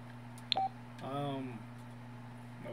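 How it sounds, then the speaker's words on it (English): Telephone dialing tones from a phone call in The Sims 4: a short run of tonal beeps followed by a rising, warbling ring tone, heard over a steady low hum from the game. "Phone call."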